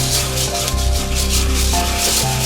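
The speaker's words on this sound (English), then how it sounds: "I'll be using 150 grit sandpaper for this application." Sandpaper of 150 grit rubs steadily over laminated PVC for a compound bow, a close, continuous back-and-forth scratching hiss with no talk.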